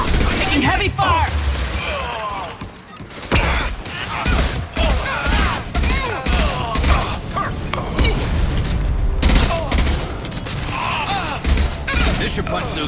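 Heavy combat in the video game Mass Effect 2, with continuous gunfire, impacts and crashes that are loud and dense throughout, while voices shout over the noise.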